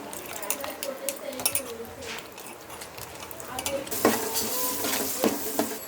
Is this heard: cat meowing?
no